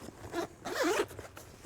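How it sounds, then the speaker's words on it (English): A beefy number 10 zipper on the main compartment of a Flight Gear cross-country pilot backpack, opened in two quick close rasps, the second longer and louder. "The main compartment has these beefy number 10 zippers on it."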